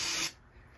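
Aerosol spray can hissing into the spark plug hole of a Ski-Doo Formula MX snowmobile with a two-cylinder Rotax engine, one short close burst that stops abruptly and leaves a quiet hiss.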